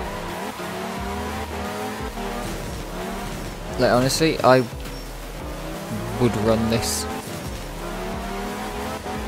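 Cosworth rally car in the video game art of rally, engine droning steadily throughout with a couple of louder bursts of tire skidding and revving midway, someone talking over it.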